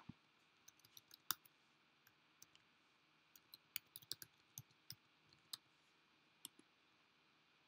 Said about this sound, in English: I click the share button and I type my friend's email.